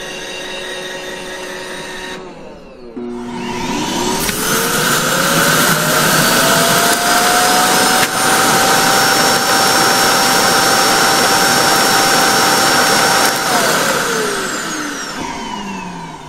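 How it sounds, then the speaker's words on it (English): An iRobot Roomba i7+ docked in its self-emptying base as the base loudly sucks out the dust bin, a steady roaring whine with a rising pitch that holds for about ten seconds before winding down, with no talk. "Instead, it will automatically return to its base and then empty itself."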